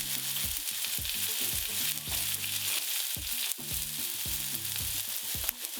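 A pan of veggie burrito filling fries in a little vegetable oil, giving a loud continuous sizzle broken by close, irregular scrapes and knocks of stirring, with no talk.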